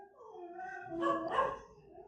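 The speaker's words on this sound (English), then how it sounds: "And the dogs are losing it too." Dogs vocalize in a brief, faint burst, a drawn-out howling whine rising into a yelp, heard alone without talk.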